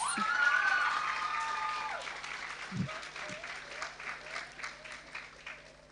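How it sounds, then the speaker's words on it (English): Audience applause at a secondary school graduation ceremony, a burst of clapping from a crowded hall that starts full and gradually thins out, with a few voices calling out within it. "Give yourselves a round of applause."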